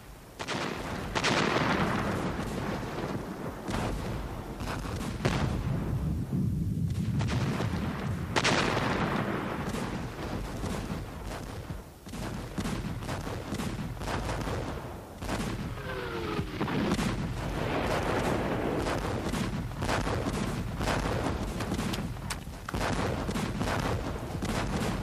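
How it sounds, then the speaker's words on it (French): A World War I artillery bombardment of German positions thunders on with repeated booming blasts and rumbling detonations, dense and continuous, with no speech. "L'artillerie arrose les positions allemandes de toutes sortes d'explosifs dévastateurs."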